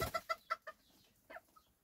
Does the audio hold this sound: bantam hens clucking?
yes